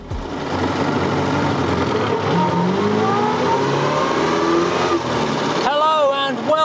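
A small vintage Austin 7 engine revs loud and close, climbing steadily in pitch as it accelerates, then drops back with a wavering note near the end.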